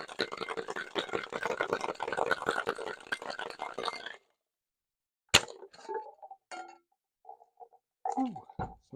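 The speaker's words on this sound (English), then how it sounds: "And now we get our ice and we shake for 10 to 12 seconds." Ice rattles hard inside a cocktail shaker while a violet cocktail is mixed, a dense continuous clatter for about four seconds that stops abruptly, followed by scattered small clinks and handling noises.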